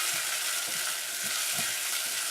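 Onions and dried vathal frying in a pan for mung bean kulambu, a steady loud sizzle with soft scraping stirs of a spoon recurring every half second or so.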